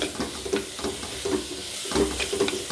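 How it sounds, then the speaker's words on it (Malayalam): Spinach leaves sauté quietly in a pan, a soft sizzle broken by regular stirring strokes every half second or so. "ചീര ഇലയും കൂടെ കുറച്ചായിട്ട് ഇതിലേക്ക് ഇട്ട് കൊടുത്ത് നമുക്ക് വഴറ്റിയെടുക്കാം"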